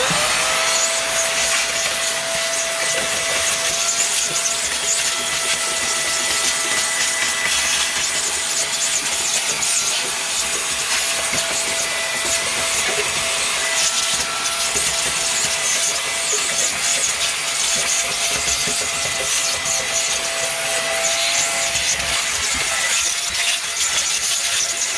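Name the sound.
vacuum cleaner cleaning dust off a car floor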